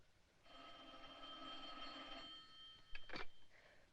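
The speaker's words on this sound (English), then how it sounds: "Answer the phone." An old 1940s telephone bell rings once in a steady metallic trill, fairly faint in a quiet room, followed by a brief clatter as the receiver is handled.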